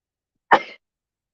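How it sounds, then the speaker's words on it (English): A single short, sharp sneeze from a person, sudden and fairly loud, then silence. "There's a bit of a sneeze there"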